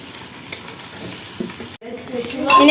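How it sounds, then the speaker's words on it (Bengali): Meat masala for a home-cooked biryani fries and is stirred in a pan, a steady sizzle with scraping strokes, briefly cut off by a sharp break, then resuming louder and busier toward the end. "এখানে এখন মাংসর মশলা কষানো হচ্ছে"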